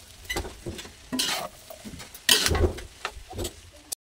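Chow fan rice with fried garlic is stir-fried in a pan, with bursts of scraping and tossing and a low sizzle between strokes, close and clear.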